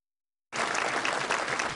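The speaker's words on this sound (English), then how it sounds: "Resounding applause for the 43rd President George W. Bush" A packed audience at the Reagan National Library bursts into resounding applause for former President George W. Bush, a sudden, dense and steady wash of clapping that starts abruptly and holds strong without voices.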